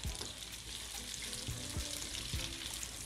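Capsicum and chopped onion sauté in a pan for chicken Manchurian, giving a soft continuous frying sizzle at low level with a few faint scraping and stirring sounds.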